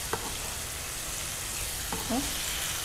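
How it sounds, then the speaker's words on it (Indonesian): Chicken frying in oil until browned hisses in a loud, constant crackle, with a brief, faint voice near the end. "Ayamnya sudah digoreng ya, kita biar agak coklat sedikit ya."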